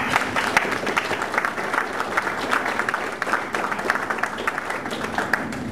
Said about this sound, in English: A round of applause, please, for Cliff Suttle.